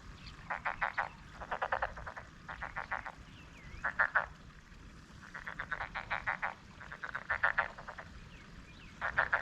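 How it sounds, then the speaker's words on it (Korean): Frogs croak in repeated rapid trills, rhythmic pulsing bursts over a soft outdoor background in a quiet rural village by Chiaksan, moderately distant and steady throughout. "어 개구리 소리가 벌써 나네."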